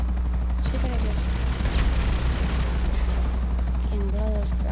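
Helicopter in Grand Theft Auto V: a steady loud rotor drone fills the scene, with bursts of gunfire and brief voices in the background.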